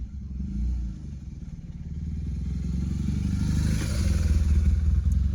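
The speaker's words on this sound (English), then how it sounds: "BMW motorbike." A BMW motorbike passes by outdoors, its engine rumble building steadily from a low drone to a louder, fuller pass over a few seconds, with no voices over it.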